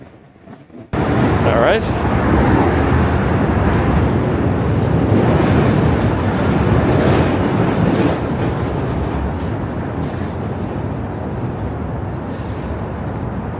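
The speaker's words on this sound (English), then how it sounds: "We got to keep an eye out on the other side too, because sometimes it can be another train that we miss." Subway trains passing in Manhattan, New York City: a loud, sustained roar with rattling and clacking wheels that starts abruptly and rumbles on, heard up close with a brief spoken remark and wind buffeting.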